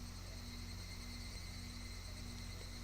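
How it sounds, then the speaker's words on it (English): Steady, continuous drone of cicadas from the game Higurashi: When They Cry, a dense unbroken buzzing chorus at moderate level with no other sounds. "Only the cry of the cicadas remained annoyingly loud."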